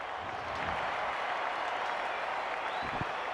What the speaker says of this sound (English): the crowd senses the big opportunity at hand